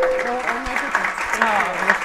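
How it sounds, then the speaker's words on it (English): An audience at a Wear Red Canada event at the University of Ottawa Heart Institute claps in a short burst of applause, with a voice speaking over the clapping. "another round of applause for Nadia"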